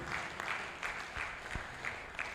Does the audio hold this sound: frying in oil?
no